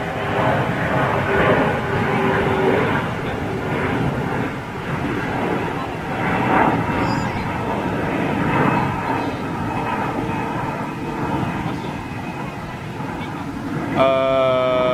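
Airliner engines rumble and roar steadily and fairly loudly over wind buffeting during the Airbus 50th anniversary fly-past at Toulouse, the drone swelling and easing across the whole stretch, with people talking over it at times.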